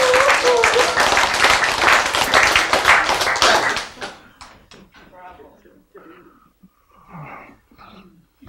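Loud, dense audience applause at a lecture for about four seconds, then it stops and someone speaks Korean.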